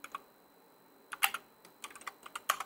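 Someone types code on a computer keyboard while building an Angular app's update-post feature: bursts of crisp, close key clicks, a couple of isolated taps followed by quicker clustered runs, with no speech.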